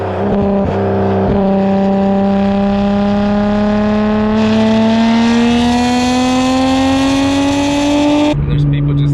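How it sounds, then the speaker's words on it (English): Nissan GT-R R32 with a Tomei exhaust, heard close and loud as its engine note climbs steadily in a long rev, with brief blips at the start and a sharp drop at the end. "now the pops and the car itself is louder, as you can tell by the sound clips"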